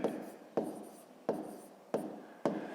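Numbers being written by hand for a fifth-grade maths exercise: five crisp pen or chalk strokes at a regular pace, each a sharp tap trailing into a faint scratch, close and quiet with no voice.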